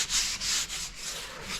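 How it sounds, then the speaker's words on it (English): A worn 220-grit sanding sponge is rubbed by hand over varnished wood on a wooden boat, producing rhythmic scratchy back-and-forth strokes close to the microphone. "I'm using some somewhat worn out 220 on a sanding sponge"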